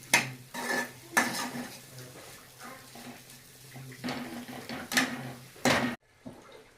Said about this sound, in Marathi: हा बटाटा तर मी ह्याच्यामध्ये चांगला परतून घेते